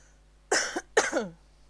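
Two harsh coughs close together, close-up and fairly loud, with quiet around them.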